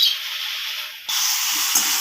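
Fried potatoes tipped into a hot pan of spiced eggplant, a faint hiss jumping to a sudden loud sizzle that carries on steadily.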